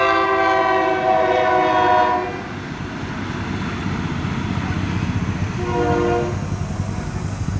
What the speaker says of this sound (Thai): รถไฟมาแล้วครับตอนนี้รถไฟมาแล้ว